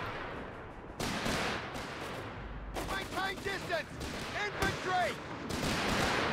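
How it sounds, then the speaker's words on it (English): Sniper or marksman shots in Company of Heroes 3, a World War II strategy game, sharp gunfire cracks among scattered battle noise while a commentator talks over it. "Quick sniper shot there, or marksman shot on the Fallschirmjaegers"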